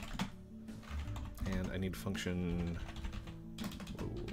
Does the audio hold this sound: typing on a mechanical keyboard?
yes